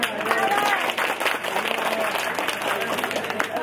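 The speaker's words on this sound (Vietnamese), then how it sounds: "đề nghị chúng ta cho một tràng pháo tay nữa" An audience at a regiment reunion meeting breaks into applause, dense clapping and crowd noise close and continuous for a few seconds, with some voices mixed in.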